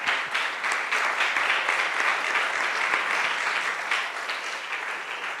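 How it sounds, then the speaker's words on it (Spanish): A church congregation applauds steadily, with dense, sustained clapping from many hands filling the room for several seconds without letting up. "Un aplauso al Hijo de Dios"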